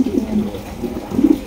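Pigeons at a pigeon sale in Bangladesh give soft, low throaty coos, two or three close murmuring calls in a short burst.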